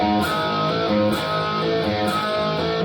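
A distorted electric guitar plays a slow Scandinavian hardcore punk riff, sustained notes sliding between pitches with a few brief gaps, loud and close.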